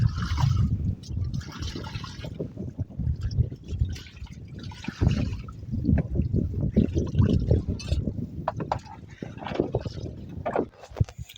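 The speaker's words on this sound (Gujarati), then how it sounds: "પાણી ભરે છે હવે" Seawater pours and gushes into a boat out at sea, loud sloshing and trickling bursts coming in uneven surges, with splashes and knocks close by.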